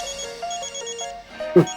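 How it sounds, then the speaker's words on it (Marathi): A telephone rings with soft repeated electronic tones, faint and close under a quiet indoor scene, ending in a brief louder knock. "फोन."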